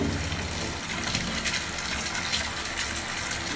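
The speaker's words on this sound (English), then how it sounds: "I'm going to try just throwing it into the water." Rushing, gushing water fills the whole stretch, loud and close, a continuous churning wash with no distinct single splash standing out.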